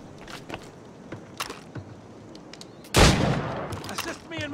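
Gunfire in the video game Assassin's Creed Rogue: scattered sharp shots crack at intervals, then a loud, dense burst of overlapping fire erupts and lingers near the end, with faint background game noise between.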